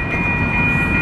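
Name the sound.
train passing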